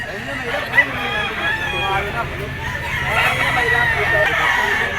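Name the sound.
fighting rooster crowing at pet market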